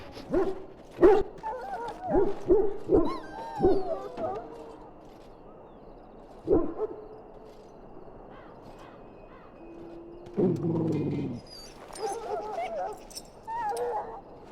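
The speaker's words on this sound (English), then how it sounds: "Now I can treat the dog properly, poor fella." Dog in the video game Dragon Age: Origins, giving a series of short yelps and whimpers in quick succession, then a lone yip and soft whining, with game character voices talking in between.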